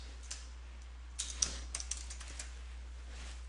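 Quiet computer keyboard typing while renaming items in software, a short cluster of light clicks in the middle of the clip over a steady low electrical hum, fairly close and soft.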